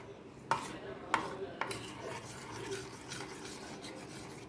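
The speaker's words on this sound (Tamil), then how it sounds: "இதை வந்து நல்லா கலக்கி மிக்ஸ் பண்ணி எடுத்துக்கலாம்" A spoon stirring a mixture of crushed biscuit and milk in a bowl, giving a soft faint scraping with three sharper clinks against the bowl early on, quiet and close.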